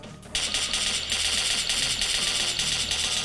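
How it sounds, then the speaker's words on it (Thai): Rapid, steady bursts of video game gunfire rattle continuously like an automatic weapon, loud and dense over a low background rumble, played through a Redmi 10 2022 or Redmi 10A phone speaker. "นี่เสียงยิงประมาณนี้เลยครับ"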